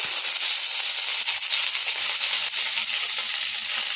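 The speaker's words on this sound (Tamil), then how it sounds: "இப்போ நம்ம கருவேப்பிலை சேர்த்துடலாம்." Curry leaves crackling and sizzling in hot oil with popped mustard seeds, a dense, steady frying hiss with small pops throughout, close and loud with no talking.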